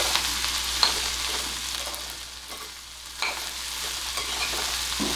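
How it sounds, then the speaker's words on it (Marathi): French beans sabji stirred in a pan, a quiet continuous sizzle with occasional soft scrapes and clinks of a spoon against the pan. "व्यवस्थित मिक्स करून घ्यायची"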